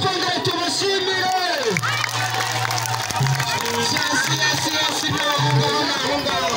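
Crowd at an event in Gisenyi, cheering and clapping continuously with children's shouts and voices mixed in, fairly loud and steady throughout.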